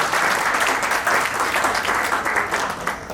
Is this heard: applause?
yes